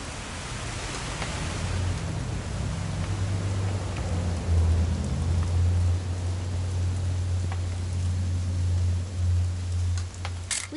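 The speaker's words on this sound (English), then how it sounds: "It's gonna rain the whole weekend, isn't it?" Steady rain pours in the video game What Remains of Edith Finch, a continuous hiss of falling water with a low rumbling undertone and a few faint scattered taps, with no voices.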